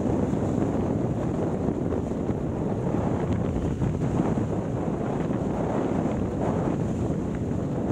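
Strong headwind buffeting the microphone while riding an electric velomobile, a steady dense roar of rushing air that fills the whole stretch without letup and swamps any other sound.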